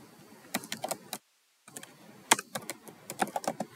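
Clicking keystrokes on a computer keyboard, two quick bursts of close, crisp taps separated by a brief silent pause, no voice over them.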